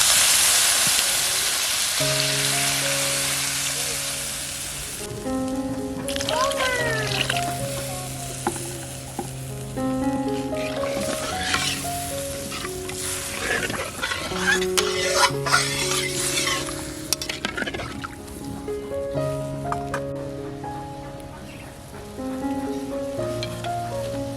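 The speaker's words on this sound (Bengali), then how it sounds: "মশলা থেকে তেল ছেড়ে দিয়েছে, এখন ঝোলের জন্য জল দিয়ে দেব।" Spice paste frying in a pan for Kerala-style sardine curry, a loud continuous sizzle with occasional stirring and utensil clinks, accompanied by background music throughout.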